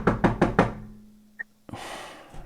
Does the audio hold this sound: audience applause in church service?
no